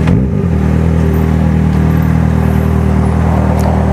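Steady engine hum of a Yamaha XJ6 motorcycle cruising at night through a city, a constant low drone with a brief swell at the start, close and loud with no talking.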